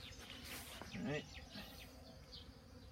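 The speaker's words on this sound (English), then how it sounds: "Bee's trying to get in that hole." A honeybee buzzes at the entrance hole of a beehive during oxalic acid vaporization treatment. The buzzing is close and wavering and swells briefly near the middle of the clip, and a voice speaks once over it.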